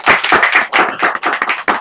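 A small group of people clap at close range, a quick uneven run of sharp hand claps that lasts a couple of seconds, with no voices.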